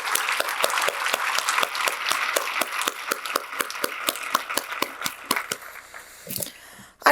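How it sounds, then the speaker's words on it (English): An audience at a league annual convention business session applauds outgoing board members, a dense, steady burst of many hands clapping that fades out near the end. "Let's give an applause for those outgoing board members."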